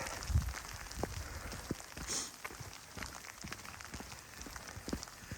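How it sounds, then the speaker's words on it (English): Heavy rain pours steadily on a campground by a lake in the Willamette National Forest, a dense constant hiss of drops striking surfaces with scattered louder patters, close by and alone with no talking. "It's raining pretty hard"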